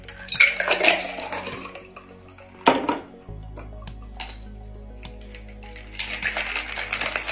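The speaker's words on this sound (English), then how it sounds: "I'm gonna pour this in my glass and give it a little bit of a shake." Ice and a mojito of watermelon, lime and lime seltzer rattle in a glass shaker, clattering in quick bursts at the start and again near the end, with a steady low hum between.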